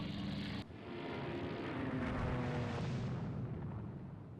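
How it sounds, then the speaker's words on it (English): Medium bombers droning over a battle group in the naval wargame Rule the Waves 2, a loud steady roar of aircraft engines with rumbling blasts, cutting off abruptly early on before swelling again. "Enemy aircraft are over our battle group. Medium bombers level bombing."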